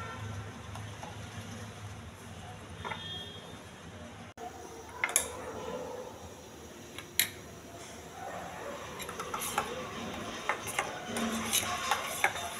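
Peanut curd mixture being stirred in a bowl, with soft scraping and several light clinks of a spoon against the bowl at an irregular pace, close and without speech.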